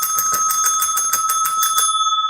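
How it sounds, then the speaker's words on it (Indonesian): A small bell is struck rapidly about nine times in a bright, close, even rhythm, then its ringing tone hangs and fades on its own. "lonceng."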